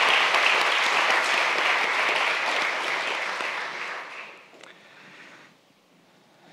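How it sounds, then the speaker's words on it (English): Audience applause fills a conference hall for a tribute, loud and steady clapping for about four seconds before thinning out and fading to a few scattered claps. "let's have a round of applause for Jeff and Paul for getting this all started"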